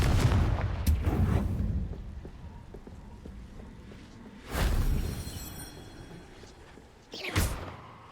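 Three separate Confringo spell blasts from Hogwarts Legacy, each a sharp thudding boom with a rumbling tail, fired several seconds apart over a quieter background of game ambience.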